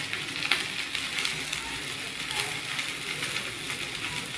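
Oil is poured into Nepali-style chow mein frying in a pan, giving a steady, close, hissing sizzle that runs throughout at moderate loudness.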